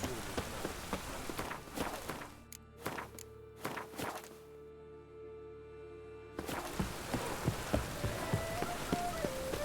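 Rain patters in The Witcher 3 game as scattered, irregular drops and thuds, soft and fairly close, dropping to near silence for a stretch before picking up again, with a brief spoken word.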